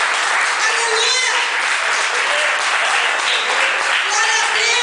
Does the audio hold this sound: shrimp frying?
no